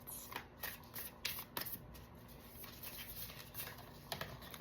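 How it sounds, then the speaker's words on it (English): Tarot cards are shuffled close by, a soft, quiet riffle of papery flicks and pattering slaps that repeat through the clip with no talk. "I'm going to pull a few tarot cards."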